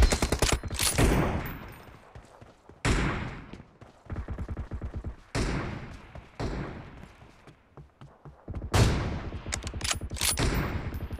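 Video game gunfire with an AWM sniper rifle, several loud bursts of shots in clusters separated by brief pauses, with dense, rapid reports and booming impacts filling the mix.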